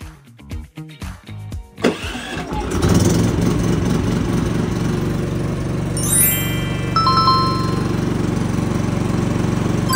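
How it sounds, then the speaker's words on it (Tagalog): A Philking PK4200 inverter generator starts up after an automatic transfer switch kicks in, its engine settling into a steady, loud hum that holds for several seconds. "So hintayin natin ngayon yung generator na mag-kick in."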